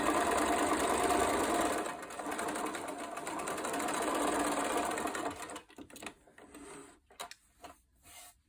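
A sewing machine stitches a doll's school dress from a kit, a close, steady whirring run for about five seconds, then breaking into short, stop-start bursts of stitching with pauses.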